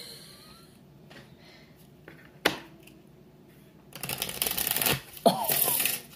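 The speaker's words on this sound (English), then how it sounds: "Go, give us a good shuffle," A deck of playing cards is shuffled up close: a quiet stretch with a single sharp tap, then two dense, riffling bursts of fluttering cards, each lasting about a second.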